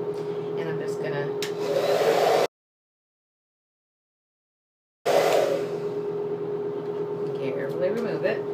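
A hair dryer fitted with a diffuser blows on low speed and low heat, a steady close airy hum that cuts out for a few seconds and then resumes.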